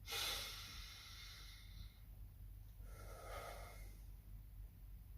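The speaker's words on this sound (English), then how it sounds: "some breathing techniques can be really useful. Simply just doing this." Deep breathing exercise demonstrated: two long, audible breaths, a sharp inhale near the start and a softer exhale around the middle, close and fairly quiet over a low steady hum, with no talking.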